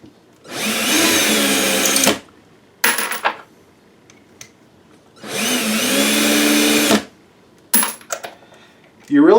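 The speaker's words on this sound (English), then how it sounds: "it's a freaking drill spinning" An electric drill spinning a 5.56/.223 brass cartridge case for reloading whirs in two long bursts, each followed by short metallic rattles and clicks as something is handled between runs.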